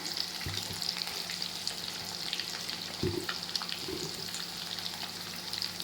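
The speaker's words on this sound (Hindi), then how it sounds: "देखिए आलू फ्राई हो रहा है" Potatoes frying in a pan for a potato egg curry, a steady close sizzle throughout with a few louder stirring scrapes and pops, no talking.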